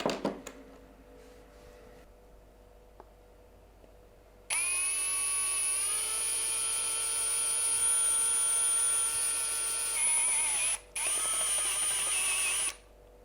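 A power drill whines loudly and steadily as it bores a hole, pausing briefly once before running again, then stopping.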